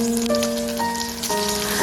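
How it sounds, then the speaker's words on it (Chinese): Scallion, ginger slices and chopped green onion sizzle in hot cooking oil in a wok, a steady close crackling hiss with no talk while a Sichuan-style boiled pork dish is being cooked. "锅中加入适量的食用油，烧热，油热之后把大葱加进来，姜片和葱花也加进来。"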